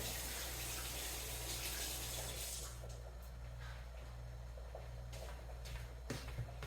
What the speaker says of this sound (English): Let me rinse the celery off real quick.